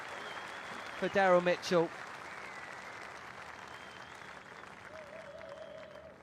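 A cricket crowd at Hagley Oval applauds in a soft, steady spatter during a Test match between New Zealand and England, heard from a distance while a commentator speaks over it.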